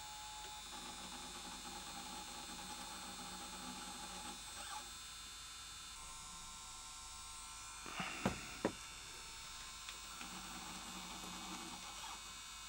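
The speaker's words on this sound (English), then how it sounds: "I think the capstan motor is making a dreadful noise" Capstan motor of a Sony J-30 Digital Betacam player making a faulty noise: a steady mechanical hum and whirr with a repeating tonal pattern and a couple of brief clicks partway, close and without speech.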